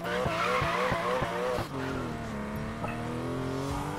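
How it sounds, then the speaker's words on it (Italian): Tires skid and squeal continuously as a car drifts in the Need for Speed Payback video game, with engine revving throughout, loud and close with no gaps. "Derapa continuamente per 500 metri"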